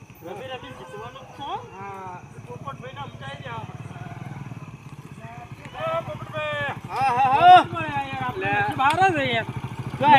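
A motorcycle engine idles with a steady low rumble beneath continuous conversation between several people, the voices growing louder toward the end.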